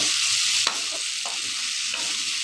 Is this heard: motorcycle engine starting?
no